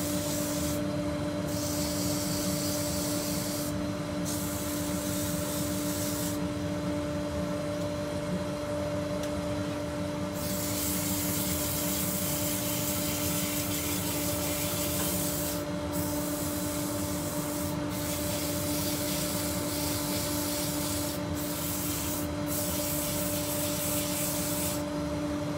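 Sandpaper rubs against wood spinning on a lathe, a steady dense hiss lasting the whole stretch over a constant motor hum, broken by a few brief dips as the paper lifts away.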